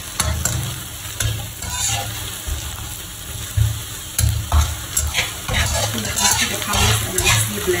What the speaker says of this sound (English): And then just mix that all together.